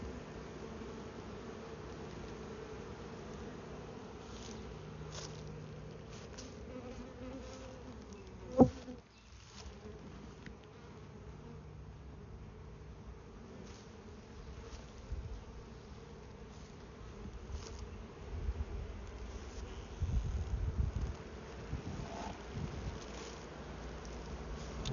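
A continuous drone of many honeybees buzzing close by as a swarm is moved into a new hive, with a brief sharp knock partway through and some low rumbling later on.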